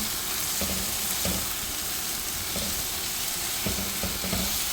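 Tenderized mutton fries with spices in a pot, a continuous close sizzle with occasional soft stirring scrapes, no voices.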